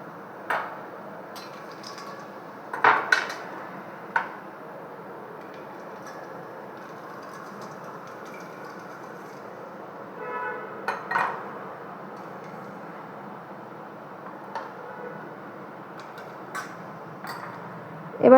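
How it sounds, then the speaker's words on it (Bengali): Partly melted ice cubes drop into a glass of mint drink, giving a few scattered clinks and knocks, two clustered near the start and more around the middle, over a quiet room background. "এবার দিচ্ছি আইস কিউব।"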